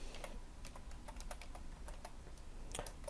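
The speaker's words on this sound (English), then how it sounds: "I am going to type in a multiplier" Fingers type on a computer keyboard in a quiet room, with soft, irregular key clicks at close range and no talking.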